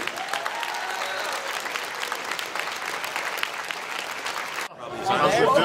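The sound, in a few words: audience applause for Rubik's Cube champion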